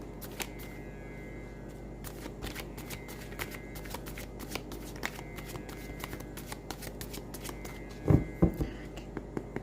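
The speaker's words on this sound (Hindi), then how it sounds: "last shuffle" Tarot cards are shuffled close by in soft, rapid riffling bursts that repeat throughout, ending with a louder flurry of card snaps near the end, with no talk over it.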